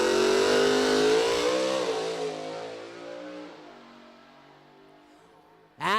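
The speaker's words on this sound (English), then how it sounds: "Here come the RPMs." A drag racing car revs hard at the start line at a drag strip, a loud high engine roar that sweeps up and then fades away, followed by a brief sharp burst at the end.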